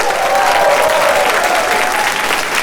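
Sustained crowd applause at the closing ceremony of a cat-themed convention, loud and dense, holding steady throughout with no talking over it.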